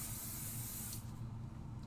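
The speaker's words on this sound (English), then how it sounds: "I'm just spraying a little Pixie spray onto the background." Pixie spray hisses steadily from a can onto a craft background, a continuous close aerosol spray that runs for about two seconds with a slight dip midway, with no talking over it.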